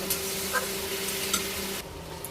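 Fish curry with chalta being stirred in a pan, a spoon scraping and clinking in bursts over a steady low sizzle, close and fairly loud with no voices.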